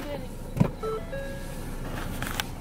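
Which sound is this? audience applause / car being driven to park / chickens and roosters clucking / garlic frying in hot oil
car being driven to park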